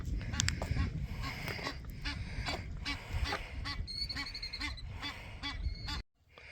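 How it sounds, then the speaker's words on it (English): A mother duck at a lake in a state park calls loudly and repeatedly in harsh honking quacks, close by over an outdoor background, ending in sudden quiet. "this mother duck over here is making a ton of noise"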